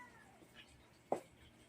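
A domestic cat gives a single short, fairly loud meow near the end, preceded by faint softer cat sounds over a quiet indoor background.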